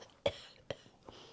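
A held-back cough, stifled and muffled, comes as three or four short close bursts in a quiet room, as when someone sits silent in an exam.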